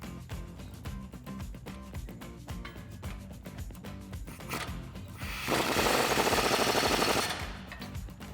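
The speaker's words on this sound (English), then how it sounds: "grab our impact and get it tightened down" An impact wrench rattles in one loud, steady hammering burst of about two seconds, tightening a flag nut onto a bolt while installing a Teraflex 2.5-inch lift kit on a two-door Jeep Wrangler JK. Rhythmic music plays underneath throughout.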